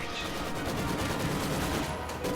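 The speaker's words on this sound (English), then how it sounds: "Maxim suppresses the Grenadiers instead" A Maxim machine gun fires in a war strategy game, quick rattling bursts mixed with distant battle gunfire, moderately loud and continuous.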